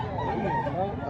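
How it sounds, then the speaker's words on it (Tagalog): Rooster crowing at a chicken expo in Mantalungon, Barili, Cebu. A loud, close crow fills the whole brief moment, with the busy hum of the crowd and other voices talking underneath. "Sayang ang manok."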